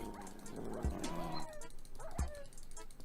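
A dog in the Minecraft Hypixel Skyblock game gives two short, sharp barks, each followed by a higher whimpering yip, heard fairly quietly over a busy game soundscape.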